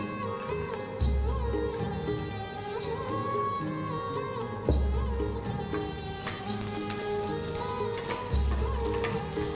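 Raisins, cashews and almonds fry together in a pan, giving a continuous sizzle and crackle with a few soft stirring knocks, while a steady tonal background plays underneath.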